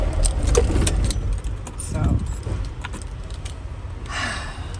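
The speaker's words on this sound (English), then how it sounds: "the key has to be in and turn all the way around. Then you can crank it up." Keys jangle as one is turned in a box truck's ignition, with the engine cranking and running under a loud, rumbling cab, close up with some talk.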